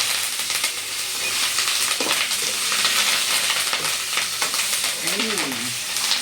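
Curry leaves sizzle and crackle in hot oil for pulihora, a loud, continuous frying hiss with scattered pops and faint stirring clinks close by.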